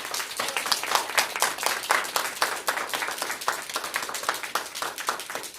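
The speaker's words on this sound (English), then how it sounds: "Again, another round of applause" Applause from a Toastmasters meeting audience for table topics contestants, a steady crowd of hands clapping densely throughout without pause, no talking over it.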